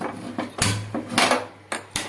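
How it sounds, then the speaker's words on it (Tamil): A cooking pot is set on a stove while making radish stir-fry, giving several sharp metallic clanks and clatters in an irregular sequence, close and fairly loud, with no talking. "ஒரு பாத்திரம் மேலே வச்சுருக்கோம்"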